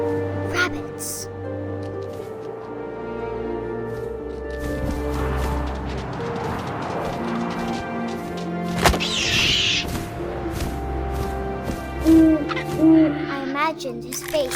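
Owl hoots in the game What Remains of Edith Finch, a few soft calls rising over wind, rustling and light impacts, while a narrator speaks throughout.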